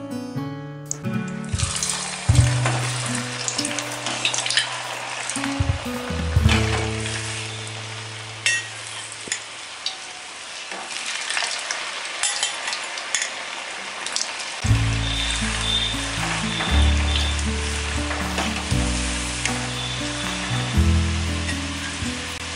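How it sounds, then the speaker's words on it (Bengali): Burindas deep-frying in hot oil in a home kitchen: a steady bubbling sizzle runs throughout, rising and falling, with clanks and tonal hums from utensils and cookware at times, and no voices. "প্রথমে আমরা একটু তেলটা গরম করে নিয়ে এর মধ্যে আমাদের যে বানানো বুরিন্দাগুলো রয়েছে সেগুলো আমরা দিয়ে দেবো এবং ভালো মতো ভেজে নেব।"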